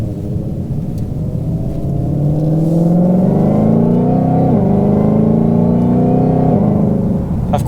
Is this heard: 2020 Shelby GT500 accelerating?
yes